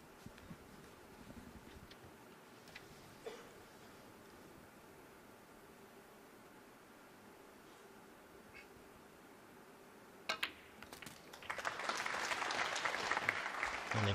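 A snooker crowd bursts into applause at a frame ball, following a long stretch of quiet hall ambience with a few faint knocks; the clapping swells loud and sustained near the end.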